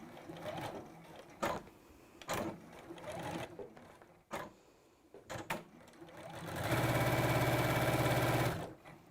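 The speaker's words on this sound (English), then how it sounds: "I'm just going to sew along the side seam" A domestic sewing machine runs steadily for about two seconds as it stitches the side seam of a garment made from premium fabric, after several short bursts of quieter stitching earlier. A close, loud, even whir hums throughout the longer run.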